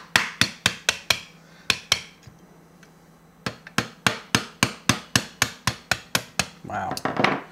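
Sharp, close metallic taps as the back of a screwdriver knocks tight trigger pins out of a Remington 870 shotgun, struck in quick steady bursts with a short pause midway.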